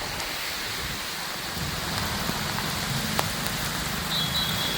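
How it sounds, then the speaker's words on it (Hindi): Heavy rain pours down in a dense, constant hiss, close and loud, with a low rumble beneath and no voices. "बहुत तेज बारिश है"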